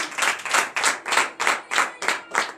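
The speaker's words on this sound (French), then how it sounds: "Donnez l'acclamation à Jésus." A congregation at a morning prayer service in Benin claps together in a steady, rhythmic beat, roughly three claps per second, loud and close with no talking.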